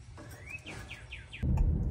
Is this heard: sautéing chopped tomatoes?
no